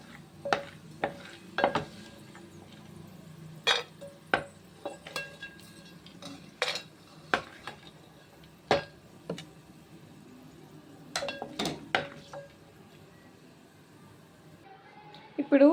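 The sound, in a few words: fried dry fruits moved onto a plate, dishes clinking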